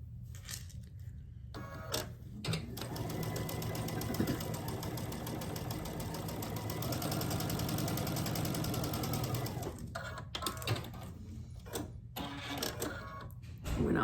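A sewing machine stitches quilt block units for a Grinch-themed block in one long steady run of rapid needle chatter, with short stop-start bursts before and after.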